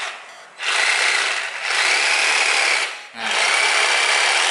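A Black & Decker Gopak cordless saw whirs in three loud, steady high-pitched bursts, each run separated by a short pause as the single-speed motor stops and starts.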